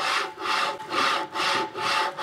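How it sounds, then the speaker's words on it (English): Wood chippings thrown onto a Hepco V guide rail land in repeated broadband rustling bursts, four or five scratchy swishes in a steady rhythm, close and fairly loud with no talk. "Bit of wood chippings throwing on there."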